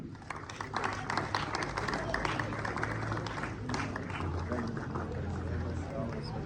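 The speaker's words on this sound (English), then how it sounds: "Professor Muhammad Montakim, clapping for him" An audience at an event claps for a professor, a loose, uneven patter of hands spread through the room, moderately quiet and continuing beneath some speech.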